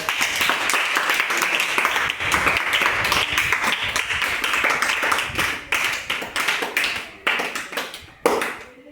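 Children in a maths lesson on multiplication clap together, a dense, fast patter of many hands that keeps going for several seconds before breaking into a few separate bursts near the end.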